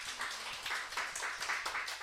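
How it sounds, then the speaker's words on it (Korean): Clapping from a church congregation during a Sunday morning worship service, a steady patter of many hands across about two seconds, moderately loud with a few stronger claps rising out of it and no voices. "오늘 처음 우리 교회에 오신 분들이 있는데 우리 박수 좀 해드려요."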